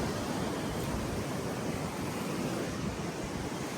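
Sea waves wash steadily onto a beach on the way to Goa, a continuous broad rush of surf with light wind noise, fairly soft and close, with no voices.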